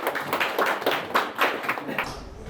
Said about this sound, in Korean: 여러분 박수 한번 부탁드리겠습니다